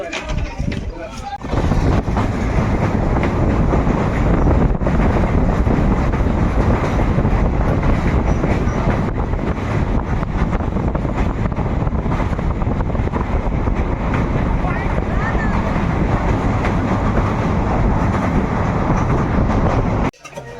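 Continuous loud rumble and clatter of the Balurghat–Nabadwip Express running on the tracks, heard from inside with faint voices beneath the noise.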